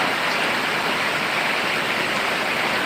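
Rain pours over Sirajganj after a heatwave, a dense, even hiss of heavy rainfall, steady and close without a break.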